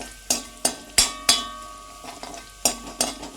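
Garlic for chicken Manchurian is sautéed and stirred in a pan, heard as a run of sharp utensil knocks and scrapes against the metal in an uneven rhythm, each with a short ring, over a faint sizzle.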